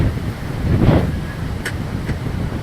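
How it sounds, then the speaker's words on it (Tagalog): Steady roaring wind buffets the microphone with a dense rushing wash of noise, heavy rain and strong wind blowing hard outdoors in Bacungan, Puerto Princesa. "Ang lakas na ng ulan, ng hangin"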